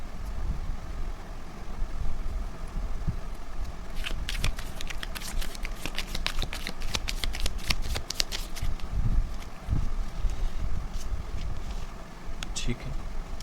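Tarot cards riffle and shuffle in a dense burst of crisp flicking and snapping, loudest in the middle stretch, over a steady low room rumble with a few scattered card taps.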